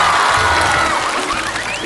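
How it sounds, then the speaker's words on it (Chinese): A studio audience on a variety show cheers and claps to welcome a guest, a dense continuous crowd roar lasting throughout. "我们掌声欢迎小葡萄的妈妈。"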